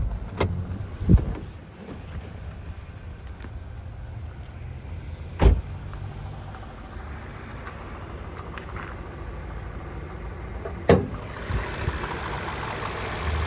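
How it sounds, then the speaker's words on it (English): A 2019 Toyota Corolla Ascent Sport hatchback idles steadily with the hood open, a low even engine hum running throughout, broken by a few brief sharp clicks or knocks near the start, middle and end; no one speaks. "we'll just pop the hood for you while we have the car running"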